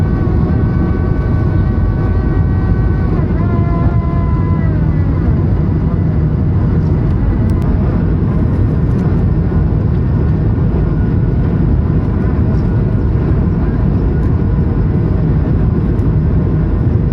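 An airplane takes off from Kumamoto airport at sunset, with a loud, sustained jet roar and a faint whine that bends in pitch, heard alone with no talk.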